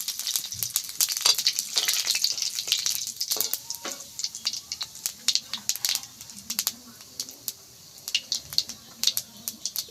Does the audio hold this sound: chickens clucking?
no